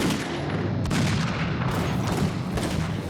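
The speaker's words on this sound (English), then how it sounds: "So your 40 rounds in a stick magazine, that's like 4 to 5 seconds worth of gunfire" Sustained automatic fire from a gun fed by a 40-round stick magazine, a loud, continuous roar of rapid shots with brief dips in intensity, heard close with no talking.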